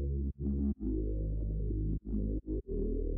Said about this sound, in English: another main element in this verse is this bass